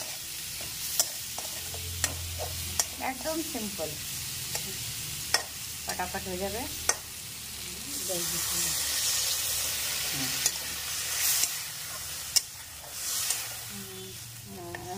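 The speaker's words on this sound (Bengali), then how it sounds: "আলুগুলো মিশিয়ে দিয়েছে, আর ওগুলো মিশানো করে একটু ভাজা করছে" Potato and pointed gourd pieces fry in a pan for a spiced curry, a soft sizzle under scraping stirs and clinks of the spatula, while someone speaks briefly over it.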